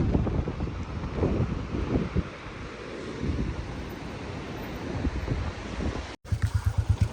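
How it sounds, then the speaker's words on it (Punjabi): Strong gusts of cold mountain wind buffeting close by, a rough continuous roar that briefly cuts out near the end before resuming. "ਠੰਡੀ ਠੰਡੀ ਹਵਾ ਆਉਂਦੀ ਆ"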